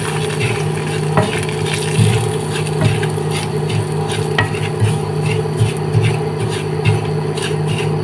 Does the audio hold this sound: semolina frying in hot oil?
yes